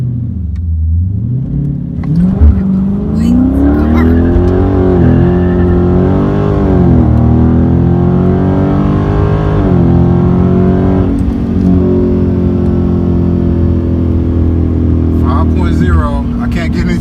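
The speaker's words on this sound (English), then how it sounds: "I can't get any traction, it's just burning out." A 2017 Dodge Charger Scat Pack doing a burnout, its loud engine revving and rising and falling continuously as the tires spin without traction, close and dominant for the whole stretch with a brief sharp change near the start.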